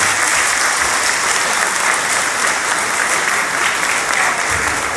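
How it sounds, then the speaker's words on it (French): Loud, continuous applause from a crowd at a political party meeting, a thick even wash of clapping throughout with no voices standing out. "Applaudissez très fort"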